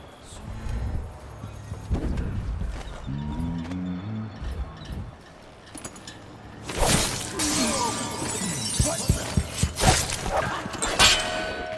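Glass shatters loudly in the stealth game Dishonored, a bright burst followed by a spray of tinkling fragments and scattered clatter, with game sounds and brief voices around it.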